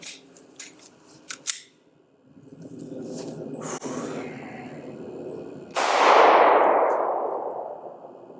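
A Glock 19 pistol is handled close by: a few sharp metallic clicks and clacks, a stretch of rustling, then a loud bright slide clack that rings out and fades as the round jams on the feed ramp.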